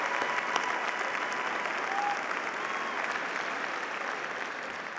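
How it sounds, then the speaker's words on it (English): A university fall graduation audience applauds the graduates' families, a dense, steady wash of clapping that holds evenly for several seconds from a large, somewhat distant crowd. "Let's give them a round of applause and thank them for their support."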